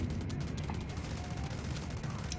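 AKS-74 rifle fire in the mobile shooter Delta Force Mobile, heard as a steady, dense stream of loud shots and battle noise that runs through the whole moment without a break.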